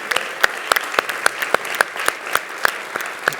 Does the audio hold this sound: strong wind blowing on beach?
no